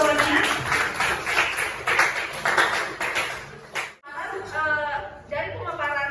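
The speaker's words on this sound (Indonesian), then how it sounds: "Beri tepuk tangan untuk Ibu Intan atas jawabannya." Audience applause at a public speaking forum, a dense burst of clapping that fades out, then a voice speaking after it.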